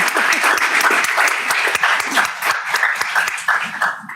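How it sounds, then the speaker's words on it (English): A roomful of people at a school board meeting claps steadily, a dense, fairly loud burst of applause with many overlapping hands, sustained throughout. "So if you would give my group a round of applause."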